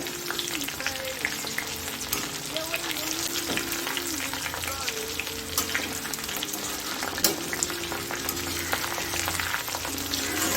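Parsley and small onion pakoda fry in hot oil with a busy, crackling sizzle, continuous and close, with occasional stirring clinks and scrapes breaking through the bubbling.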